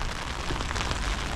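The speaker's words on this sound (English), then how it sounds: "you see that rain coming down, pissing down" Heavy rain pours down steadily in a dense, continuous hiss, close and loud with no let-up and no voices.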